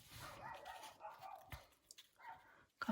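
Dogs barking in the background while someone works on paper crafts at home, a few muffled barks mixed with rustling, fairly distant and low in level.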